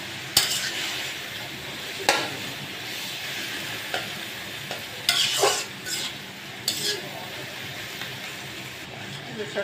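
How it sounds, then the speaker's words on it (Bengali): Red amaranth greens stir-fried in a pan with garlic already fried until red: a steady sizzle runs throughout, broken by about half a dozen sharp scrapes and clinks of the spoon against the pan, close and moderately loud, with no talking. "শাকটা নাড়াচাড়া দিয়ে এগুলো ভাজা ভাজা করে দিব।"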